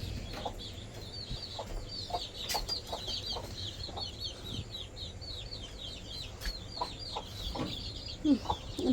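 Domestic chickens at a village home cluck in a repeated run of calls, fairly faint, with some background noise.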